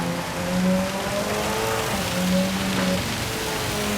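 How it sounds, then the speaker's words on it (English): Heavy rain hisses steadily during a Gran Turismo 7 race at Spa in a Porsche 919 Hybrid, blended with a continuous engine drone that rises and falls slightly under the downpour. "It is raining so hard still."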